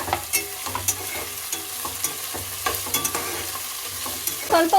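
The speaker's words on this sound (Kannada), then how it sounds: "ಇವೆಲ್ಲನೂ ಫ್ರೈ ಮಾಡ್ಕೊಳ್ಳಿ." Chopped vegetables, including cauliflower and beans, fry in a pan for vegetable pulao, with a close, continuous sizzle broken by repeated scrapes and knocks of stirring, and no talking.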